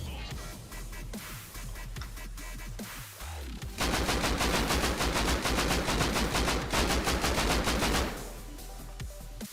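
Gunfire in the survival game Rust during a base raid: bursts of rapid automatic shots, first scattered, then a dense sustained volley of loud repeated cracks before tapering off.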